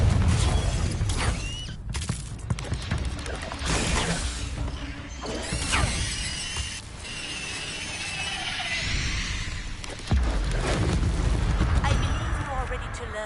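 Confringo fire-spell explosions in Hogwarts Legacy, several crashing bursts and crackling impacts over busy game noise and mechanical clatter. A voice speaks over parts of it.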